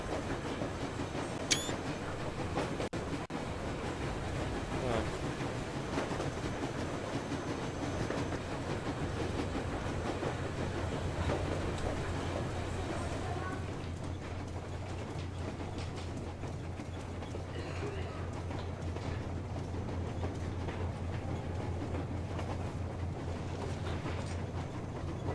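A train rolls along rails in the video game Metro Exodus, a continuous rumbling and rhythmic clatter of wheels with a steady low engine drone that sets in midway, moderately loud and unbroken for about twenty-five seconds.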